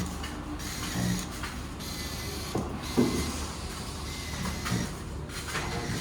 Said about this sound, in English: we just screw the cap to the carriage